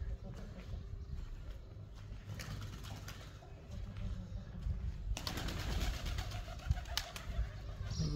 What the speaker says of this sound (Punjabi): ਮਾਸ਼ਾ ਅੱਲਾਹ ਕਬੂਤਰ ਤਾਂ ਚੰਗੇ ਲੱਗ ਰਹੇ ਨੇ